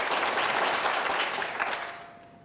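Audience at a Salt Lake City mayoral debate breaks into dense, steady applause that rolls on, then fades out toward the end, no one speaking over it.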